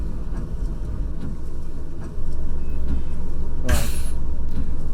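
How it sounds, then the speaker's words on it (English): A brief hiss of air as the coach's handbrake is set in Fernbus Coach Simulator, a short sharp burst over a steady low engine idle at night. "Put the old handbrake on."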